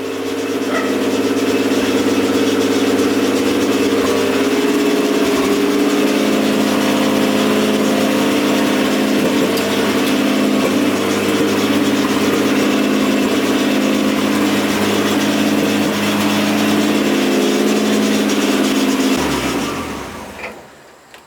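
Nissan Skyline R34 engine idles loudly and steadily up close with a low droning hum for about nineteen seconds, then the tone drops and the engine dies away near the end as it is put in gear.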